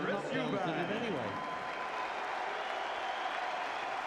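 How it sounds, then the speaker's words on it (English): A boxing crowd applauds two-time world champion boxer Chris Eubank. A voice speaks briefly at first, then steady, dense clapping fills the arena and holds at an even level to the end. "And a round of applause for the two-time world champion, Chris Eubank"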